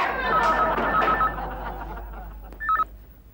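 A short electronic telephone ring chirps near the end in a domestic sitcom scene, preceded by murmured voices and a faint chuckle.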